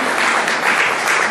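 An audience at a book presentation applauds a children's poem recital with loud, close, sustained clapping from many hands that swells slightly in places, and no voices on top.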